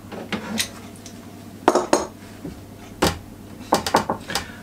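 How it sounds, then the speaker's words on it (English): Freshly glued wooden panels of a custom mixing board case are forced apart, producing several sharp cracks and hard knocks in irregular bursts, close and fairly loud. "I glued on this top panel, forgetting that this needs to be removable"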